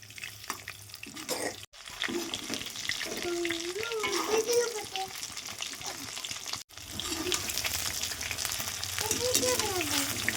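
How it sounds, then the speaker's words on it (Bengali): Chicken pakora frying in hot oil, a continuous bubbling sizzle heard up close for several seconds, with two brief dropouts and occasional scraping as the pieces are turned. "আবার এগুলো মিনিট 2 ভেজে উল্টে দিচ্ছি।"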